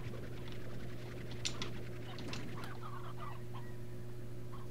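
Chickens in the Slime Rancher game cluck and patter in a quiet, busy cluster over a steady low electrical hum.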